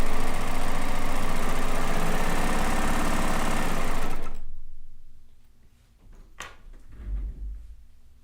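A home sewing machine runs steadily at speed, stitching two fabric pieces together, a dense mechanical whir for about four seconds that then stops, leaving quiet room sound with a brief tap and a low thump.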